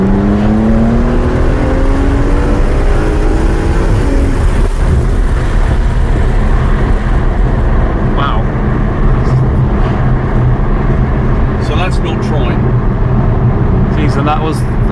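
An Aston Martin DBS Superleggera pulls away at roughly half throttle, its engine note loud and steady from the cabin as it climbs through the revs, with a rising whine and road roar throughout.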